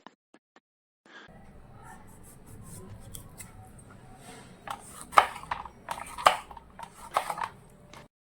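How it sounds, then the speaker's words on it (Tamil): Tomatoes are cut into quarters onto a plate for tomato pickle, the knife giving sparse, sharp clicks and knocks against the plate that grow louder and more frequent toward the end, after a quiet start. "தக்காளி எல்லாம் நாளாக கட் பண்ணி வச்சுக்கலாம் தட்டில்."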